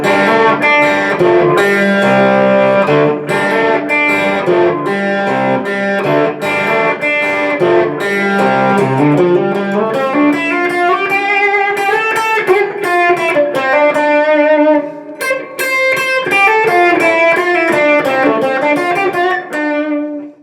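Electric guitar with heavy distortion and a touch of reverb plays the intro riff of a song, a continuous driving pattern of chords and single-note lines, loud and alone with no talking.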